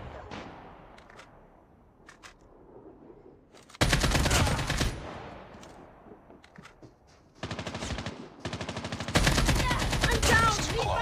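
Bursts of loud machine-gun fire in Call of Duty: Mobile during a team deathmatch, three long sustained volleys separated by quieter stretches with scattered distant shots.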